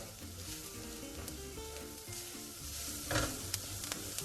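Turmeric and garlic sizzle in a hot pan on medium-high heat while being pushed around. A steady, close frying hiss plays under a faint background tone, with a few louder scraping stirs near the end.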